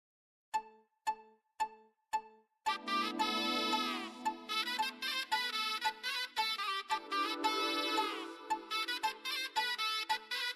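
A mobile phone ringtone plays loud and close in a Marathi TV serial scene. Four sharp ticks come first, then a busy, bright melody runs on without pause.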